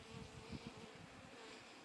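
Honey bees drone at an open spring hive, a faint, continuous buzzing hum with slight swells, no voices present.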